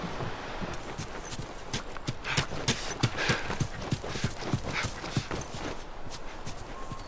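Horse hooves in The Last of Us Remastered clop in a steady walking rhythm, crisp and fairly close, with a faint background hiss and no talking.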